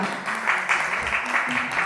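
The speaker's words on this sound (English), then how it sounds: "may I have you all applaud a small gesture for Aruna Arya Gupta." An audience at an event applauds, a short burst of steady clapping with some voices mixed in.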